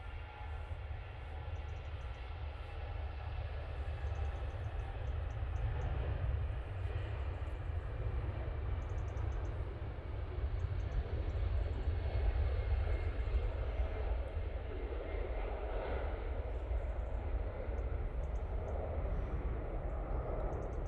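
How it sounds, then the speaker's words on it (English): An EasyJet Airbus A320 rolls down the runway for takeoff at Manchester Airport, giving a deep, rumbling engine roar heavy in the low end that builds gradually and stays sustained for about twenty seconds, fairly close. "EasyJet A320 now on the roll"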